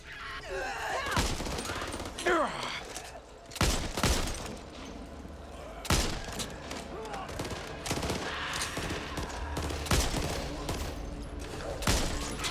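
Gunfire in the zombie shooter Back 4 Blood: repeated loud shots and bursts of rapid automatic fire, close and sharp, with short pauses between volleys and faint voices and groans mixed in.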